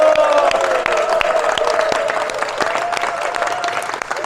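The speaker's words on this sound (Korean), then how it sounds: "네, 박수 드리겠습니다." Audience applause at a school ceremony in the Philippines, a steady wash of many hands clapping with some crowd murmur and a faint voice underneath, continuing for several seconds.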